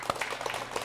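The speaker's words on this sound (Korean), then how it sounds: "우리 박수 올리겠습니다." A church congregation at a Baptist Thanksgiving service starts a brief burst of applause, soft and somewhat distant, with rapid overlapping claps.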